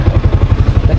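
A motorcycle engine idles close by with a loud, pulsing low throb and a light mechanical clatter while the bike is turned around.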